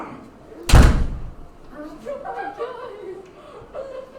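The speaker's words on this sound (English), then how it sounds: "You can't even slam these doors. Well, I guess that's kind of a slam." A door swings shut with a single sharp thud near the start, followed by people laughing and chuckling softly afterward.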